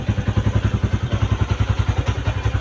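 A Yamaha Sniper 150 v2 motorcycle fitted with an MVR1 exhaust pipe and big elbow idles close by, its exhaust giving a steady, rapid, even thumping pulse with no revving and no voices.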